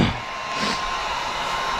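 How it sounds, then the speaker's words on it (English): A steady, loud whirring blow of a heat gun running continuously while warming up for tinting a 2008-2013 GMC Yukon rear window, with a faint high tone riding on top and no speech. "got my heat gun over here warming up"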